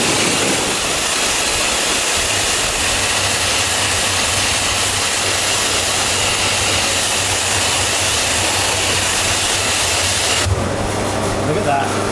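A steam cleaner blasts an old London bus engine with a loud, steady, close hiss of spray that lasts throughout and cuts off near the end.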